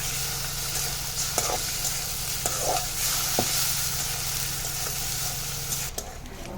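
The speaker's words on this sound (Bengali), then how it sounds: "আমাদের টেপা টোপাগুলো ভাজা হয়ে গিয়েছে" Fish roe and fish pieces sizzle in a hot pan with a dense, continuous crackle, while occasional utensil knocks and stirring scrapes sound over a low hum before the sizzle quietens at the end.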